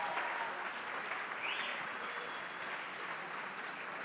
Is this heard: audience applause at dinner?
yes